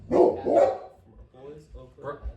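Dogs bark indoors in a few quick, fairly close woofs at first, followed by softer, scattered yips and whimpers under a background of talking voices.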